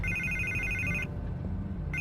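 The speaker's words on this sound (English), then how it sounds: "I can't get the phone to stop ringing." A telephone rings in Batman: The Telltale Series, a loud, shrill electronic trill that breaks off briefly and starts again over a low background hum.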